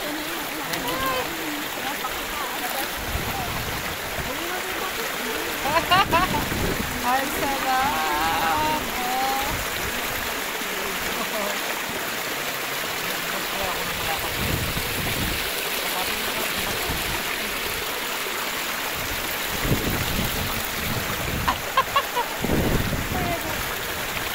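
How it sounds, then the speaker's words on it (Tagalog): A stream on an island in Mindoro, Philippines flows and splashes continuously, with scattered louder splashes and people talking and calling over it. "May batis."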